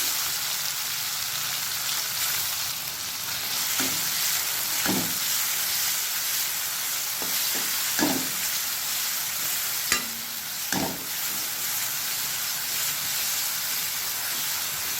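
Chopped ripe tomatoes fry in a pan for Karnataka-style dal rasam, a steady close sizzle and hiss running throughout, broken by a few scattered clinks and scrapes of stirring.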